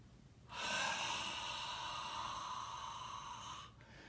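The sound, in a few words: breathing during exercise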